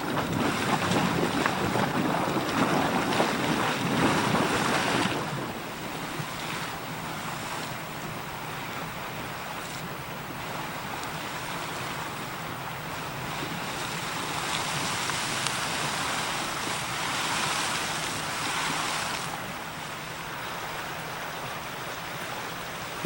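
Iron Spring Creek flows through Yellowstone's Black Sand Basin with a continuous broad rushing wash, louder for the first few seconds and then steady. No one speaks.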